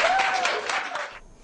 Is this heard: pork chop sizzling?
no